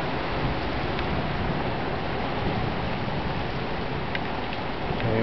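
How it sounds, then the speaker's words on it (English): Heavy rain driven sideways in a thunderstorm pours down steadily as a dense, close hiss of drops on surfaces throughout, with no voices. "I even put the camera around the corner because it's coming down so hard. Sideways rain."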